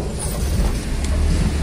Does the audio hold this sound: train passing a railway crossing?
yes